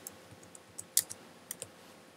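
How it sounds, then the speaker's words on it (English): Quiet, uneven typing on a computer keyboard, a sparse handful of light key clicks with one sharper tap, close and alone in a still room. "Can't type very well, clearly."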